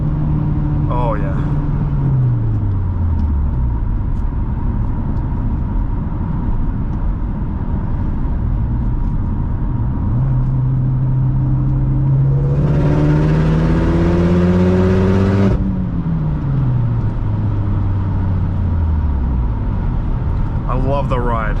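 A 2011 Mitsubishi Lancer Evolution GSR turbo engine pulls hard through repeated rising revs and gear shifts, with a loud whining surge midway, heard from inside the cabin.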